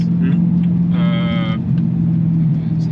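A car's engine produces a loud, steady low drone heard from inside the vehicle while it is driven, with a brief tonal whine partway through.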